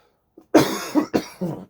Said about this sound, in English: it makes me want to cough